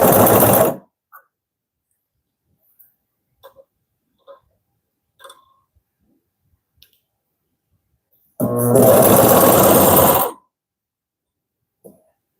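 A Consew CP206RL portable walking foot sewing machine runs in two loud close bursts, one short and one about two seconds long, separated by near silence with a few faint clicks.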